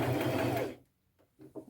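Sewing machine stitching over fabric while converting a thrifted dress into a boho kimono duster, a steady close hum of running stitches that stops abruptly, followed by a few faint handling clicks.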